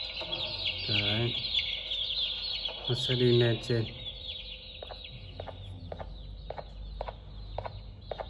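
Chicken clucking from a large in-game chicken in a Garten of Banban style horror game, a series of short clucks and squawks in bursts over continuous game background, with someone talking over parts of it.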